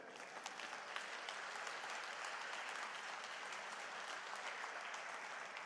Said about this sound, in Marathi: या टाळ्या माननीय देवेंद्र फडणवीस साहेबांच्यासाठी आहेत